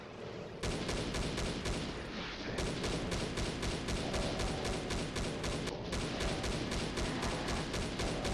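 Chaingunner enemies in the Doom ZDoom mod Knee Deep in ZDoom fire chainguns in a dense, continuous rattling burst that runs nearly the whole time, loud and close with brief dips in the rapid stutter.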